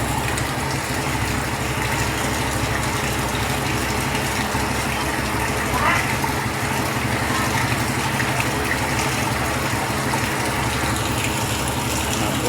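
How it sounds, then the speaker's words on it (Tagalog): Heavy rain pouring down in Taguig, Metro Manila, a dense, steady rushing wash of water that stays loud and even throughout with no pauses. "napakalakas ang buhos ng ulan dito sa Taguig, Metro Manila"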